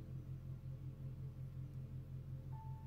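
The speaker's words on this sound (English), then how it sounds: "my neighbor and his annoying truck. You can probably hear it." A truck engine outside drones with a low, steady rumble throughout, muffled and somewhat distant, with no voices.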